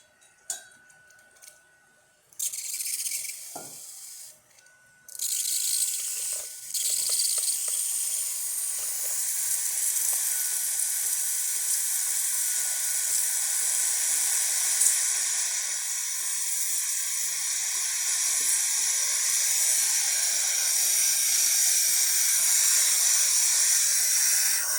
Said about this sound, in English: the steamer needs a bit until it gets hot